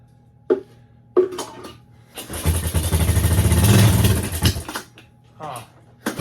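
An LT185 lawn tractor engine, started without choke, cranks and catches into a loud, rough run for about two seconds before dying away; a few sharp clanks come before and after.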